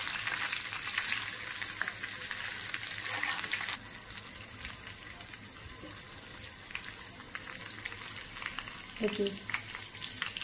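Bitter gourd sizzles and fries in oil in a pan, a soft steady crackle with occasional scrapes as the slices are turned; a brief spoken word comes through near the end.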